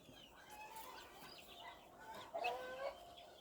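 Chickens and roosters mill about a farmyard on an overcast day, giving scattered clucks and short calls at moderate distance, with no talk.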